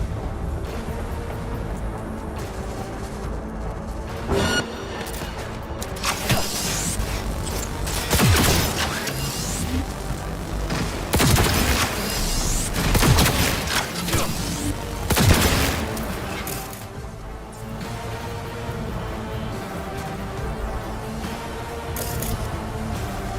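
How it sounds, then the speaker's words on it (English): Gunfire in a Cyberpunk video game battle, sustained crackling bursts and heavy booms swelling and fading over a constant noisy background, with mechanical creaks between volleys. "I am taking fire!"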